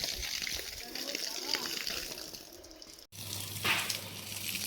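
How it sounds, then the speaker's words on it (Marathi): Water sprayed across a field soil treated with powder, a steady hissing gush that runs for several seconds, breaks off briefly, then resumes louder with a deeper rushing tone. "आता पाणी मारतो आपण सगळीकडे"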